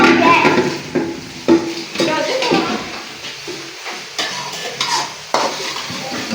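Vegetables frying in hot oil while being stirred, a steady close sizzle broken by repeated scraping strokes and light clinks of utensil on pan, with no talk.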